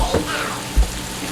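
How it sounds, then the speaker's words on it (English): Shrimp and onion rings bubbling and sizzling in a pot of hot frying grease, a steady close crackling hiss with a couple of soft bumps. "Now it's time to give them a grease bath. See them bubbling and sizzling up."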